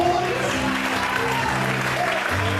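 Congregation clapping in praise during a Portuguese-language church service, a continuous wash of loud applause over sustained music tones and some voices.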